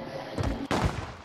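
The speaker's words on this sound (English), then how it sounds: "Shoot the flare." A flare gun fired in a video game, heard as two close, loud gunshot-like bursts less than half a second apart, the second sharper and followed by a brief decaying tail.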